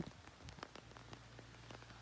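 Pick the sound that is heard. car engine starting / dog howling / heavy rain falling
heavy rain falling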